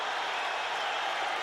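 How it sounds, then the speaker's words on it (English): A boxing crowd at the second Arturo Gatti vs. Micky Ward fight roars and applauds on its feet, a dense, steady wash of cheering and clapping that holds at an even level throughout. "Crowd on its feet"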